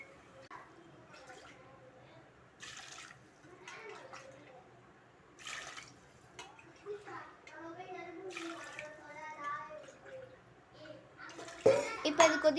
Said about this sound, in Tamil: அரிசிக்கு 5 டம்ளர் தண்ணி ஊற்றிக்கலாம்.